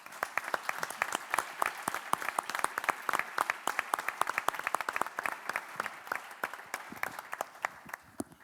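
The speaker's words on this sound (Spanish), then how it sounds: "Yo os pediría un aplauso para la organización" A modest conference audience at a circular economy meeting applauds the organisers with distinct, fairly sparse hand claps in an uneven rhythm, thinning out gradually toward the end.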